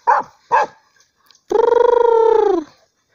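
Dogs bark twice, close and loud, as they chase a tegu lizard in dry scrub, then a long drawn-out howl follows after a short pause.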